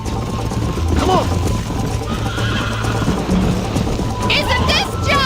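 A galloping horse in the video game Red Dead Redemption, with rapid rhythmic hoofbeats, neighs and whinnies, and a voice calling out over the steady clip-clop.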